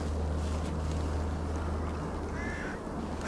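Steady wind blows at Southfield Reservoir during a feeder fishing match, a constant broadband rush with a low droning undertone buffeting the microphone, with no talk.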